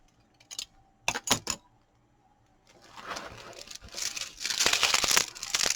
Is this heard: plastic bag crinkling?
yes